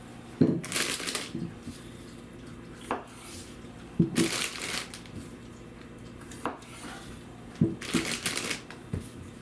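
Knife cutting Yukon Gold potatoes in half on a kitchen board for a ground beef stew, a few distinct clunky chops spaced a second or two apart, close and fairly loud, with no talking.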